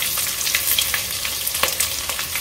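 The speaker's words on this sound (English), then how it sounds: "Tumis sampai kekuningan" Sliced onion with cumin and fennel seeds sizzles in hot coconut oil for a barracuda fish curry, a steady close frying crackle with a few brief stirring scrapes and no voices.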